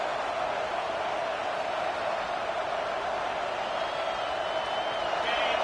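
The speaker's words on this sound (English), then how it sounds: "This crowd bringing the energy and noise early" Stadium crowd noise from the College Football 26 video game during an Arizona State scrimmage: a steady, dense roar of many voices holding at an even level throughout, with no distinct cheers or applause bursts.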